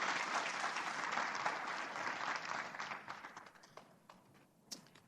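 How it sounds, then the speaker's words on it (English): Audience applause for a panel of speakers at a Federal Reserve Bank of Kansas City event. Dense clapping fills the room, then thins into scattered claps and fades out over several seconds. "Please give them a warm round of applause"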